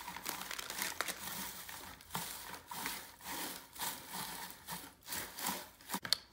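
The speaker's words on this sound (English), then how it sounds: "I'm just going to drop all my paper shred in there." Paper shred being dropped into a gift basket, giving soft crinkling and rustling in irregular bursts, close and fairly quiet, with no talking.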